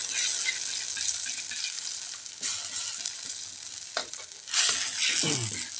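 A chili rawit (bird's eye chili) mixture sizzles and fries in a pan, a steady crackling hiss with brief bursts of spattering and stirring, close and moderately quiet with no talking.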